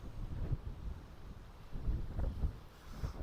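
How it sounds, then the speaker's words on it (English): Gusty wind buffets the microphone outdoors in low rumbling surges, rising and falling in strength with no voices. "It is a bit windy"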